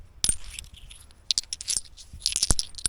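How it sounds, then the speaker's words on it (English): Loose rocks clink and tinkle against each other with bright, almost metallic chimes, a few sharp ringing hits scattered over a few seconds at close range. "I don't know what kind of rocks these are, but they sound almost like metal."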